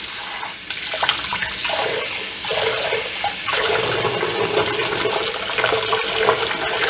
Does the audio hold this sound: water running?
yes